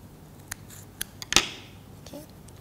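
Scissors trimming wafer paper peony flower stamens, a few small snips spaced about half a second apart, then one crisper, louder cut, close and quiet with no talk.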